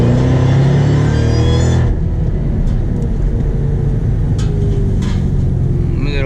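A Shelby GT500 with a Foster Mods supercharger whine enhancement, a loud rising whine over engine roar for about two seconds, then a steady drone of cabin or road noise.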